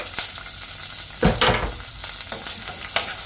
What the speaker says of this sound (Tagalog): Tapos, susunod na natin ang ating sibuyas.